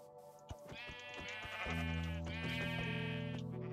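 Adult sheep bleating in Minecraft, a few short sharp calls followed by a long, loud, wavering bleat with a deep, mournful bass tone, heard alone without talk.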